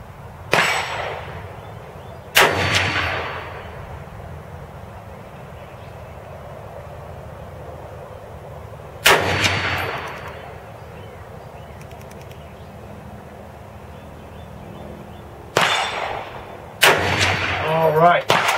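M1A rifle with a non-chrome-lined barrel firing five sharp, loud shots at irregular intervals, two close together near the end, each followed by a brief echoing decay outdoors.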